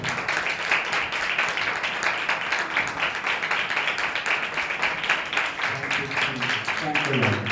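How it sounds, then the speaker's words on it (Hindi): Church congregation clapping hands in steady, dense applause that fills the room throughout, with voices and singing rising underneath toward the end. "ताली बजती है, आप इससे अच्छा कर सकते हैं।"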